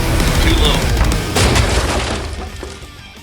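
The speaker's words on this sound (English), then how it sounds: "So, I crashed my airplane on this radio." A radio-controlled airplane running a 4S battery pack in a 6S airframe crashes into the ground, making a loud, rough broadband impact with crunching and rattling debris that slowly dies away over a few seconds.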